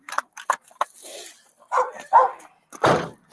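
A dog barks several times in short, close, sharp bursts, separated by brief silences, with a few louder, rougher barks toward the end.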